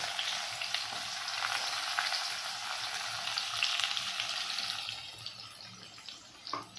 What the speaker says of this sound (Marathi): तोपर्यंत आपण कांदा परतायला टाकून देऊया